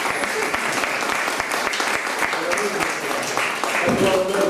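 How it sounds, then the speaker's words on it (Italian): Dense, steady applause from a large crowd fills the whole stretch, with a voice faintly audible underneath near the end. "metto l'applauso"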